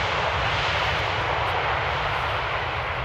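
An EasyJet airliner landing in the rain at Amsterdam Airport makes a loud, steady jet roar, broad and unbroken from start to finish with a low rumbling undertone.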